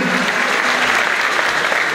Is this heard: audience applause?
yes